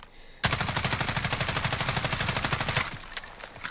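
An HK G36C assault rifle fires one long sustained automatic burst in Call of Duty Modern Warfare, with rapid, evenly spaced loud shots for over two seconds, close and clear, then a short fading tail. No talking.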